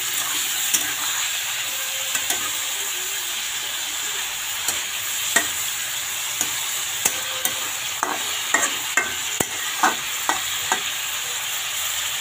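Chicken seasoned with salt and turmeric fries in a pan with a steady sizzle, while a utensil stirs and taps against the pan in irregular clicks and scrapes, louder toward the end.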